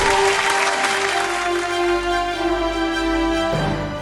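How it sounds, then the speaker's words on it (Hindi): Audience applause at a televised gospel singing competition, clapping heard under loud sustained music with steady tones and a low drone that shifts near the end. "जोरदार तालियां हो जाए।"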